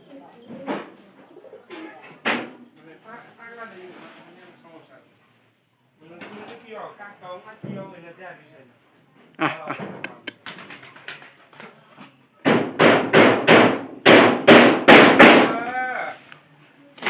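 Pigeons coo and murmur close by, growing into a loud burst of repeated calls near the end, with rustling and brief pauses between.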